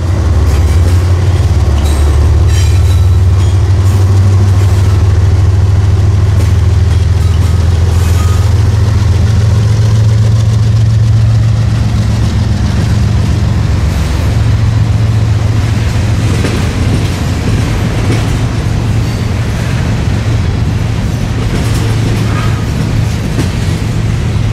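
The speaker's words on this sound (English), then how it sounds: "Meeting with this eastbound grainer that's getting a crew change." Freight trains passing, including an eastbound grain train on the BNSF Aurora Sub, a loud continuous rumble of rolling railcars with clattering wheels and a deep engine drone that lasts throughout.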